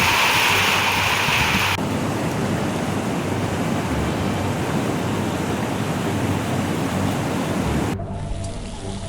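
Floodwater roars from opened reservoir sluice gates in a steady, dense broadband rush that holds at full strength before thinning near the end.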